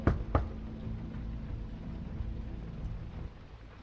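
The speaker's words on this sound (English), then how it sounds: "How about we knock?" Two quick, muffled knocks on a door in The Wolf Among Us video game, close and dull, followed by a steady low ambient rumble with no voices.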